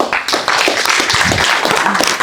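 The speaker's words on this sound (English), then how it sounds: "Round of applause for Lee." A symposium audience claps steadily throughout, dense applause close by with no pause.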